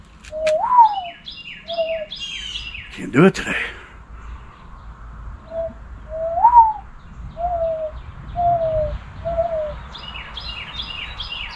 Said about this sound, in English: We got the mourning doves.